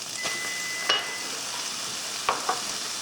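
About three medium diced tomatoes go into a tofu scramble frying in a pan, giving a steady soft sizzle broken by a few sharp spatula clicks and scrapes, close by with no talking.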